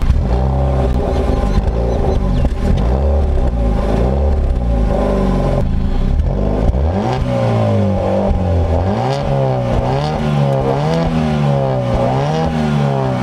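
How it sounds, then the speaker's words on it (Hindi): Loud, close exhaust note of a 2011 Ford Figo petrol hatchback, a bassy idle that rises into repeated revs with the pitch climbing and falling several times, no speech over it. "तो अभी सुनते इसका एग्जॉस्ट नोट कितना सही है"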